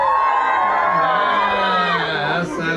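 A live concert crowd at an indoor gig cheers and whoops "woo" loudly and continuously for a few seconds, many voices blending into a dense roar that fades slightly at the end.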